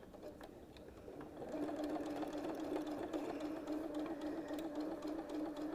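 A sewing machine stitches a quilt binding with a steady, close mechanical hum that starts softer, then settles into a continuous run throughout.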